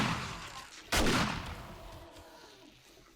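A single loud shotgun blast from the survival game 7 Days To Die, sharp and close, with a quick decaying tail over low game ambience.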